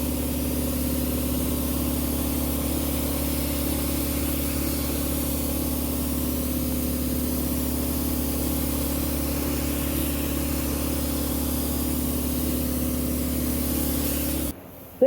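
A spray gun lays a second coat of paint on a car trunk, producing a steady, loud hiss with an even airy roar that runs without a break for about fifteen seconds, then cuts off abruptly.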